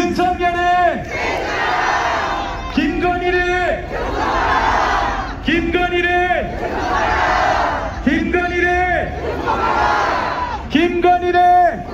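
A large crowd at a candlelight street rally in Seoul chants slogans loudly in unison, with the same rhythmic phrase repeating every few seconds, the massed voices close and powerful throughout.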